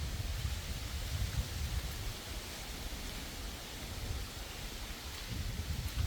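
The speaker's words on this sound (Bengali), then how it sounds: "সো দেখেন কি বাতাস" Strong wind roars in broad, surging gusts close to the microphone, with a faint patter of light rain blended into the steady rushing noise.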